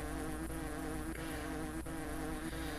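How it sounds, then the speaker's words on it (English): Bees buzz in the video game Hungry Lamu, a dense, continuous droning hum that holds steady at moderate volume, with no talking. "why there's so many damn bees"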